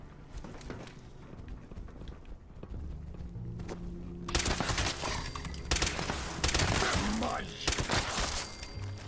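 Anti-armor explosive pipe rifle fired in a video game, a run of heavy booming shots with loud rapid blasts in the second half, heard under a man's speech.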